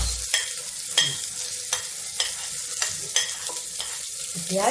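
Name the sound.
onion and garlic frying in a pan on a gas stove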